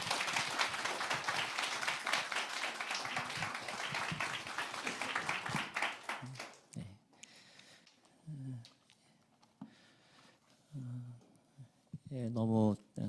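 A church congregation applauds to welcome the pastor at a founding worship service, several seconds of dense clapping that tapers off, followed by someone speaking.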